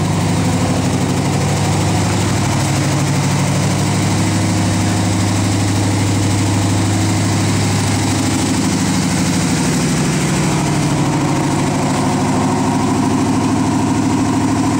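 A 1969 Ford F250 engine idles after a cold start at 0 degrees, a loud, continuous, deep rumble that stays steady and close throughout, with no voices.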